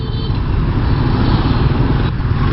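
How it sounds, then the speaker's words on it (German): Motorbike taxi riding through busy Hanoi traffic, with a steady, close engine drone and road rumble mixed with surrounding vehicle noise throughout. "ich wollte euch einfach mal auf einem Grabbike mitnehmen, quer durch den Verkehr"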